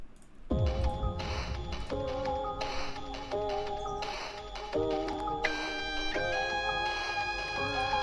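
A slowed-down sample of an instrumental track from a trap lofi remix of a song, with sustained tonal chords changing every second or so, steady and fairly loud, with no voice.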